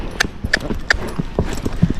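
A Tennessee Walking Horse climbs a hill, its hooves striking in a clear, close, regular clip-clop rhythm of sharp knocks, with some softer thuds between the louder steps.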